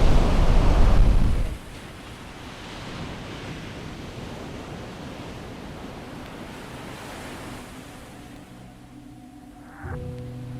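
Cold ocean surf on an Icelandic beach: a loud crashing wave roars close by for over a second, then gives way to a steady, rushing wash of water with wind noise, and a surge rises again near the end.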